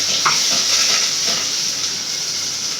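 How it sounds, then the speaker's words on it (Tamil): Curry leaves sautéing with onion in a pan for a fish curry, a loud, steady hiss and sizzle close by, with faint stirring scrapes and no talk. "இப்போ வதக்கலாம்."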